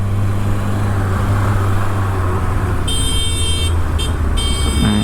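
Car horns honking in busy traffic in India over a steady low motorcycle engine drone, a couple of sustained bright horn blasts with a short break between them, fairly close and loud.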